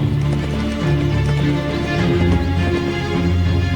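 Hooves of a clumsy young Cape buffalo calf pound the ground in the Okavango as it runs on unsteady legs, a dense, close drumming of footfalls that carries on steadily throughout.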